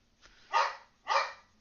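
A pet dog named Shyla barks twice in a row, two loud, evenly spaced barks close by in an indoor room, with a short pause between them and no talking.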